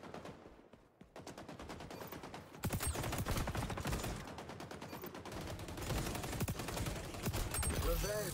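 Rapid gunfire from a competitive online shooter video game rattles almost continuously in dense automatic bursts, loud and close throughout.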